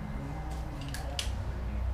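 Two quick plastic clicks and snaps as a small cap covering the nut on a Mustang GT500 bottle opener is pried open, close-up over a low steady hum.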